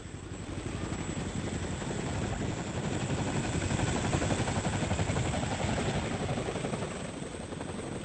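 A military helicopter's rotor thumps steadily in a constant, fairly loud drone, with a rhythmic chopping pulse and no voices.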